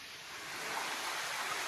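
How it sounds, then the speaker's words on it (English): A small waterfall inside a cave at Pinnacles National Park in Northern California pours with a steady broadband rush, constant and fairly close, with no voices. "Cool little waterfall over there."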